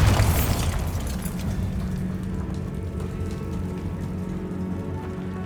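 A Bombarda blasting spell explosion in the video game Hogwarts Legacy: a single loud boom at the start that decays into a rumbling, crackling tail of falling debris.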